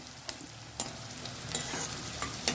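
Onions fry in a pan with cumin-fenugreek powder for a squash curry, a faint low sizzle broken by a few sharp spoon scrapes and taps as they are stirred.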